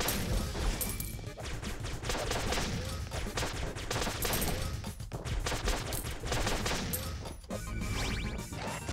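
Dense, overlapping bursts of gunfire and impacts from the video game Flinthook, a near-constant barrage of many bullets with crashes and brief gaps, with no one talking.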